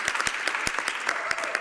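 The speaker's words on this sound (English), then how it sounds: "Feel free to interrupt my remarks with your applause at any time." Applause fills a parliament chamber, a brisk scatter of many hands clapping with sharp individual claps standing out, continuous and near, with no voices.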